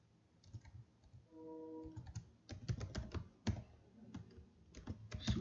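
A name is typed on a computer keyboard in a CAD program, a close, irregular run of crisp key clicks following a brief low electronic tone.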